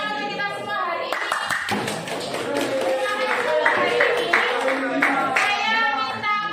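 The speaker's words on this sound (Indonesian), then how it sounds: "beri tepuk tangan untuk kita semua hari ini." A high school class claps together, a burst of scattered hand claps that starts partway in and continues under speech.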